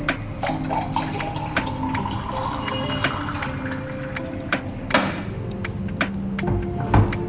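Hot water pours steadily into a glass at close range, its pitch climbing as it fills, with occasional sharp clinks and taps throughout.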